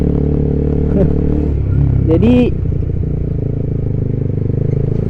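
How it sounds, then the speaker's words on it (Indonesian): A Honda CBR150R motorcycle fitted with an RX8 exhaust runs close and loud under engine braking, a steady rumbling drone with a brief high-pitched rise and clatter in the middle, while a voice speaks briefly. "Suara engine brake-nya kedengeran kan kayak lebih bacot di RPM atas gitu."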